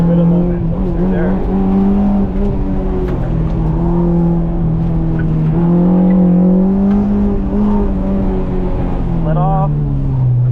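Honda Civic EJ1 racing around an autocross course at Evergreen Speedway: a loud, continuous in-car engine drone rising and falling with throttle and shifts, with a voice talking over it throughout.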